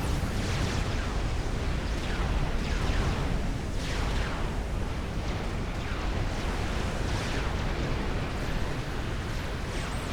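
Cruiser fire and explosions in the real-time strategy game Supreme Commander make a dense, steady roar of overlapping blasts and bursts, with repeated rushing impacts throughout a continuous battle din.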